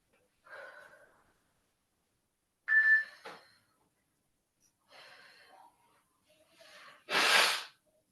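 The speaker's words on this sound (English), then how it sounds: "I have to blow my nose." Several short nasal blasts with pauses between, ending in one loud, forceful honk of breath close by.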